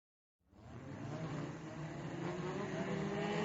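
Fast cars roar past, the engine noise swelling from silence into a steady, loud, continuous drone that builds in strength over a few seconds, with no voices.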